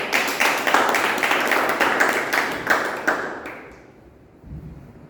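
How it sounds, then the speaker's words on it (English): A meeting audience claps steadily for about three seconds, loud and close, then the applause fades away into quiet room noise with a faint thump near the end. "We can have Pooja on the stage with a big round of applause."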